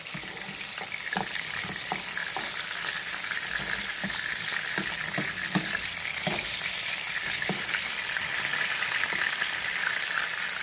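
Food fries in a pan with a continuous close sizzle and hiss, punctuated by scattered soft knocks and stirring clicks throughout; no voices.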